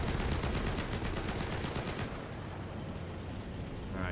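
The roof-mounted .50 cal machine gun on an M8 Greyhound armored car in War Thunder fires one loud, rapid, evenly spaced burst that stops abruptly halfway through, leaving rumbling battlefield ambience.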